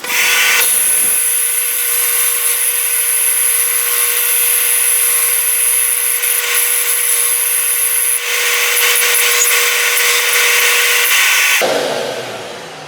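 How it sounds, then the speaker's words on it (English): A loud, steady machine whine with a high tonal hum runs continuously for about eleven seconds, dips briefly midway, then winds down at the end. "We'll clean it up on the disc sander"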